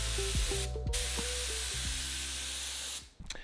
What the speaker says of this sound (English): Now back to the spray painting.